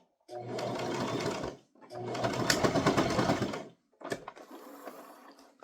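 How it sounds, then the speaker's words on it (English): A sewing machine stitching a toddler crossbody purse runs in two steady bursts and then a shorter, choppier run as it back stitches to lock the seam, heard up close with brief pauses between runs. "I'm gonna meet up with that stitch and lock it in by back stitching."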